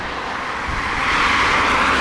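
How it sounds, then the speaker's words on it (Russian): Steady broadband road traffic noise from a nearby road on a warm evening in Alanya, Turkey, a continuous wash of passing cars that swells slightly louder toward the end, with no talk. "Что здесь раздражает, это шум дороги"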